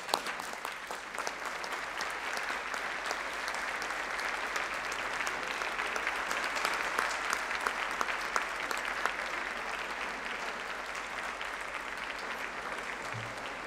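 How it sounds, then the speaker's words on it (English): Graduands at a university graduation ceremony applaud their friends and family: long, dense, sustained clapping from a large crowd in a hall, with individual sharp claps standing out and no letup. "give them the round of applause that they deserve for your success and support"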